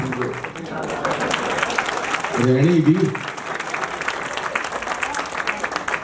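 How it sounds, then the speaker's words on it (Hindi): Audience applause at a Hindi poetry gathering (kavi sammelan) greeting poet Anil Agravanshi, a steady wash of clapping with a brief spoken voice in the middle. "एक बार जोरदार तालियां अनिल जी के नाम।"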